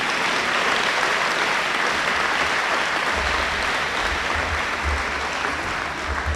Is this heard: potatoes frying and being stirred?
no